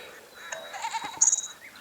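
Short sheep bleats from the Idiot Squad game, a couple of thin nasal calls rising over soft background music, brief and moderately faint.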